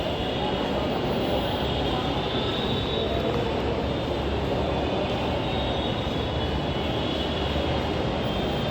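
A metro train rumbles loudly and continuously through a crowded metro station, a dense roar filling the whole stretch without pause.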